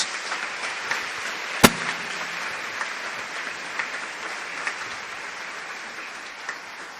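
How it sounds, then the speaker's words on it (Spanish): Moderate applause from a church congregation during a holy hour service, steady and fairly distant, with one sharp loud crack early on and a few scattered louder claps. "Dense un aplauso para la gloria de Dios."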